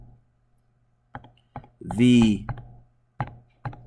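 Several sharp clicks of keys pressed one at a time on a calculator keypad while entering numbers, spaced irregularly, with a brief spoken word in the middle.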